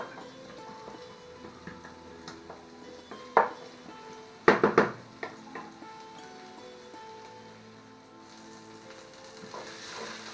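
Onions browning in a pan while chicken paupiettes are prepared, a steady low sizzle throughout with a few sharp clinks of utensils against the pan partway through, close and moderately loud, no talking.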